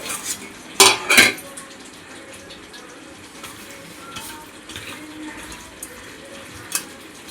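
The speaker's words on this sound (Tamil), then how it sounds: "இப்போ நல்லா மீன் போட்டு நல்லா கிளறி விட்டுட்டு ஒரு மூடி வச்சு" A few sharp metallic clinks of a utensil against a pot of anchovy fish curry being stirred, then quieter scraping and faint clatter, close by with no talking.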